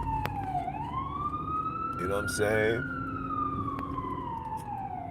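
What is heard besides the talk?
ambulance siren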